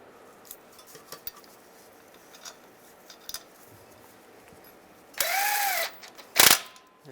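Bolts being started on the transfer case of a 2007-2013 Chevrolet Silverado: scattered small metallic clicks and taps, then a short whirring power-tool burst and a sharp metal clatter.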